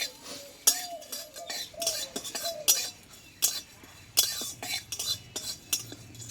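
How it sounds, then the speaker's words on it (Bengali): Cumin seeds frying lightly in a hot kadai, with metal spoon scrapes and clinks against the pan standing out over a faint crackle, a series of sharp close stirring knocks spread across the stretch. "দেখো জিরেটাকে আমি ভেজে নেব কড়াটা কিন্তু গরম হয়ে গেছে"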